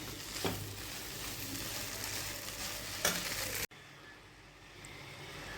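Steady sizzling and frying with scraping stir strokes as vegetable noodles are mixed in a wok, two sharper clanks, then the sizzle drops to a quieter hiss.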